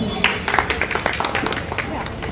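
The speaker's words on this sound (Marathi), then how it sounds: "टाळ्या" A crowd at a Haldi Kunku gathering breaks into scattered clapping after a bride recites an ukhane, close and lively with voices talking over it.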